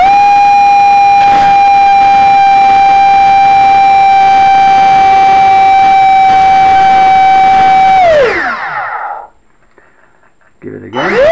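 A 50mm electric ducted fan motor on a T45 setup screams at full throttle with a loud, steady high-pitched whine for about eight seconds, then spools down sharply to silence before briefly revving up again.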